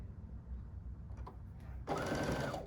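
Near the end a sewing machine starts up and whirs steadily through stacked quilt fabric pieces, close and loud after a quiet stretch of faint handling noise.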